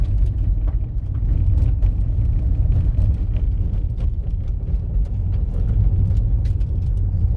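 A car drives uphill at about 45 km/h with a steady low engine and road rumble throughout, heard from inside the cabin with no talking.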